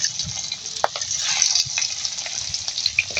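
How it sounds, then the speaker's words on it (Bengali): Pangas fish frying in hot oil in a kadai: loud, close, dense sizzling with scattered pops and the clatter of stirring, and no talking. "মাছগুলো আমি ভালোভাবে ভেজে নেব।"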